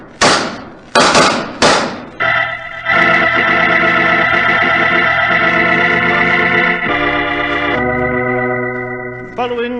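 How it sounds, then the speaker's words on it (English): Three sharp, loud gunshots ring out in quick succession in a Sherlock Holmes radio drama, each ending in a short decay, before dramatic music swells and holds. "Following that exchange of shots"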